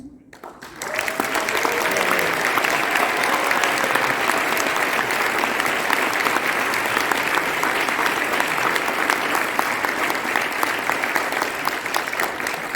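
A large crowd at an amusement industry legends panel breaks into applause that starts after a brief pause, swells within a second and then holds as dense, even clapping for over ten seconds.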